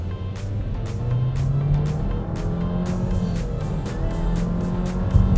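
A Nissan Qashqai with a CVT gearbox in Sport mode accelerating at full throttle from inside the cabin, a steady loud engine drone with a rising pitch and a constant road roar, no talk.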